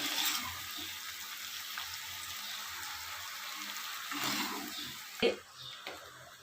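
Paneer cubes frying in oil for shahi paneer hiss in a continuous close sizzle, followed by a sharp clunk and a brief stir near the end.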